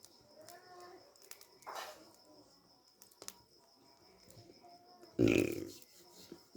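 A loud, close burp from a woman after a meal of lightly spiced vegetables cooked without onion or garlic, erupting as a short, throaty blast near the end amid quiet household background sounds.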